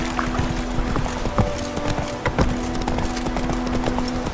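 Roach the horse gallops in The Witcher 3, with steady rapid hoofbeats close up under constant ambient game noise and no talk.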